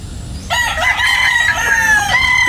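A single rooster crows loudly and close, a long, strained call that begins half a second in and carries to the end.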